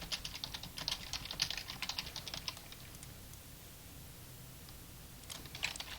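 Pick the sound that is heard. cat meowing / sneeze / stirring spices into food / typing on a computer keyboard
typing on a computer keyboard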